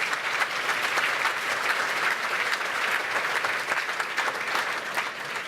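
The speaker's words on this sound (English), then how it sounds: "please give all of our dignitaries a round of applause" An audience at a cultural diversity awards ceremony claps for dignitaries, with steady, dense applause filling the room at an even level for several seconds and no talking.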